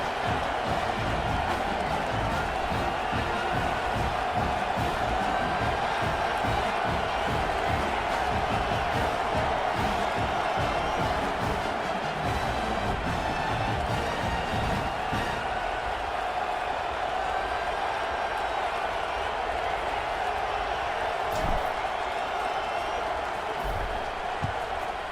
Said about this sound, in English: boy, did that last drive quiet this crowd.